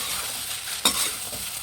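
Okra and other ingredients for bhindi sambar sizzle steadily as they are stir-fried in a pan, a close hiss broken midway by one brief scrape of a utensil, with no talking.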